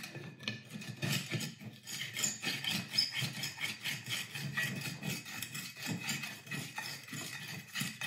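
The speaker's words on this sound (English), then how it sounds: "With this tool, file, I guess it's called, it's actually quite easy to grind the hole a little bit bigger." Hand file grinding to widen a hole in a thrown pottery table lamp, a steady back-and-forth rasping with regular strokes, close and continuous.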